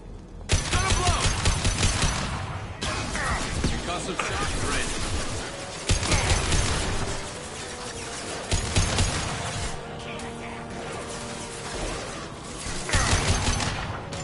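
Bursts of gunfire and combat noise from the Mass Effect 2 video game keep coming in loud waves, with heavy rapid volleys and impacts that rise and fall throughout.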